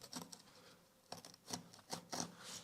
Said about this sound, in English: So we're going to be doing a side cut, which is like this.